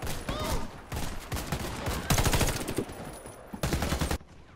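Bursts of automatic gunfire from the video game Warface come in several rapid volleys separated by short pauses, sharp and fairly close, with no talking over them.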